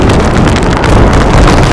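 Strong wind gusts across the Cape to Cape coast in Western Australia, a loud, continuous roar buffeting the microphone with rumbling low-end pressure and no talking.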